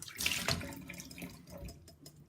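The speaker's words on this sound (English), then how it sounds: "I'm going to put the seeds into the mesh sieve and strain out all the gunk and rinse it under the tap" Tomato seeds are rinsed in a mesh sieve under a running tap, a quiet splash and trickle of water with small shifts and drips, close by and without voices.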